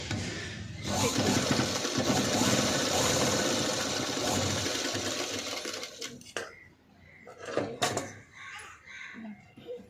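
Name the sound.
sewing machine stitching a padded blouse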